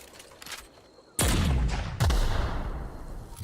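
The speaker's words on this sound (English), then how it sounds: "So this thing, the plasma launcher." A plasma launcher fires twice in the video game The Outer Worlds: two heavy, booming discharges about a second apart, each with a sharp onset and a long rumbling tail over quiet background.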